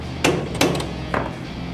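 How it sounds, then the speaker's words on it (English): A hammer taps a rear disc brake part on a 1963 C2 split-window Corvette, three sharp metallic strikes close up, the last lighter, with no talk. "Loosen it about 3 threads, tap it again."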